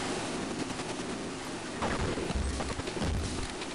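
Gunfire from the video game Half-Life, dense rapid bursts of shots cracking over a constant loud background, with a few sharper reports toward the end and no talk.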